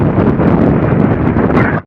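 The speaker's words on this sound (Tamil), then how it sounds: "இந்த காற்று ரொம்ப காற்று மழை தெரியும் நினைக்கிறேன்" Strong wind on the 4000-foot Kondarangi hill near Keeranur buffets the microphone in a loud, close, continuous roar for about two seconds before it cuts off abruptly.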